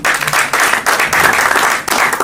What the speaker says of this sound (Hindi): जोरदार तालियां पीयूष शर्मा के लिए